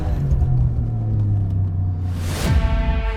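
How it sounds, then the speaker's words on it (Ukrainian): An Alfa Romeo Giulia Quadrifoglio on Pirelli tyres launches from a standstill with wheelspin: a deep engine rumble and rising drone, then a sharp burst of tyre squeal and revving near the end, with no voices. "Ох, і любить вона палити гуму на старті."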